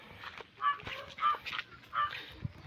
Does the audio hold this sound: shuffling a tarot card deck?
no